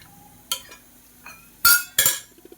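Sago vadam mixture stirred in a pot, a few sharp clinks and scrapes of a spoon against the vessel, close and sporadic over near silence.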